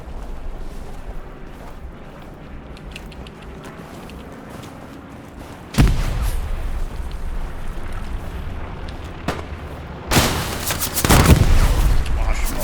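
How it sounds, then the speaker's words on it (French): A rocket explosion in the WWII shooter Hell Let Loose on a snowy battlefield, a heavy boom at mid-clip followed by a second louder blast and rumbling gunfire, with muffled voices and background battle noise throughout. "C'est quoi, c'était une roquette ça?"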